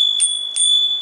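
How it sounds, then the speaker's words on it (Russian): A bicycle bell mounted on the handlebar of a touring bike rings twice in quick succession, close and clear, with a thin metallic tone lingering steadily between and after the strikes. "Звоночек, колокольчик, понятно."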